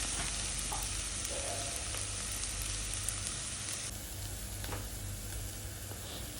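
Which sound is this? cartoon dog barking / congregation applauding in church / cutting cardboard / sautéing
sautéing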